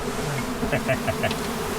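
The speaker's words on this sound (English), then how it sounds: "Even the bees that are flying past us are going to die because they've been touched." Bees flying past close by, a dense, loud buzzing drone with several individual insects whizzing near in quick succession.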